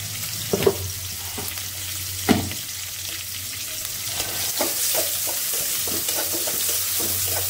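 Onions frying in a little oil in a pan, a loud, steady close-up sizzle with a few sharp stirring clacks and spatters scattered through.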